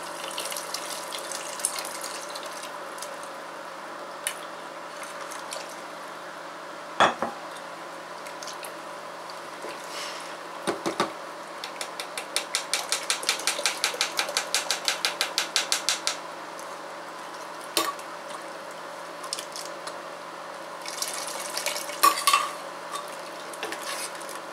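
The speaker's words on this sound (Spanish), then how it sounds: "lo vamos a pasar por un colador en nuestra agua que casi está hirviendo" A corn and piloncillo mixture for champurrado is strained through a sieve into a pot of nearly boiling water, with steady liquid pouring and a run of quick clicking taps and scrapes against the strainer. No one talks.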